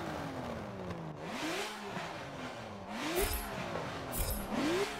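BMW race car in Forza 7 on the Dubai circuit, engine screaming up toward redline in repeated rising sweeps with quick drops at each gearshift, loud and continuous from the driver's view.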